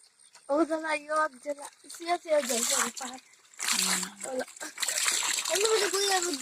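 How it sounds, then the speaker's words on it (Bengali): Water splashing and sloshing as it is scooped by hand from a cold waterfall stream to drink, several close splashes in bursts while a voice talks over them. "দেখি জল নিয়ে খাই, জন্নার জল।"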